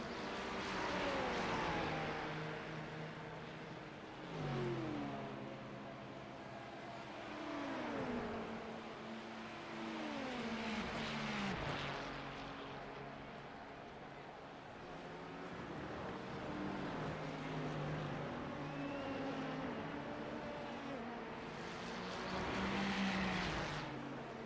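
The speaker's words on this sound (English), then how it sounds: "watching one of the Ferraris come across the line now, heading down to turn 1" Ferrari race cars at the 2024 Petit Le Mans rush past one after another, their engine notes sweeping up and down as they close in and pull away. The roar stays loud and continuous throughout, with no voices.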